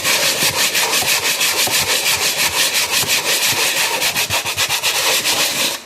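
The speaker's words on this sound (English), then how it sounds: "I'm going to sand in a back and forth pattern." Hand sanding of a wooden cabinet, the sandpaper rubbed back and forth in a steady, fast rhythm of repeated scratchy strokes, close and loud throughout with no talking.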